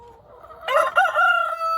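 Barred Rock chickens and a rooster in a backyard flock give a loud, close burst of crowing and clucking calls that starts abruptly partway through, after a quieter opening.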